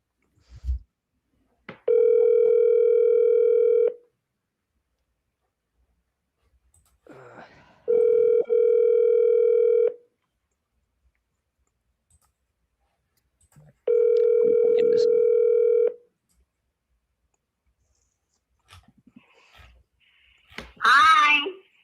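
Phone call ringing out, with three long steady electronic tones spaced several seconds apart and near silence between them, then a brief recorded voicemail greeting.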